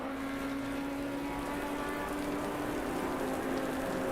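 Steady rain in a sim racing session at the Barcelona circuit, a continuous even hiss with a faint steady tone running beneath it and no talk.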